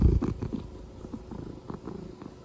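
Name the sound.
cat purring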